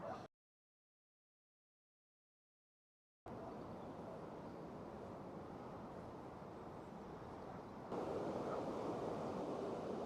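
Sea waves wash steadily against the shore beside a pier with barnacles, a continuous broad surf rush that swells louder near the end, after a short silent gap at the start.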